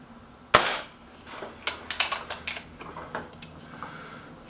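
A Kral Puncher K air rifle fires one sharp, loud crack close by. A run of quick mechanical clicks and rattles follows as the action is handled.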